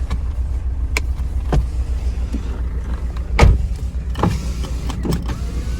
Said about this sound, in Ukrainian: Склопідйомник працює, там працює, там працює.